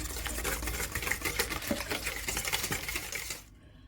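Joppie mayo sauce stirred in a bowl with about four tablespoons of ingredients, giving steady, close clinking and scraping of a utensil against the bowl that runs continuously and then stops abruptly near the end.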